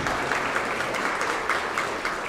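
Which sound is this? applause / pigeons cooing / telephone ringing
applause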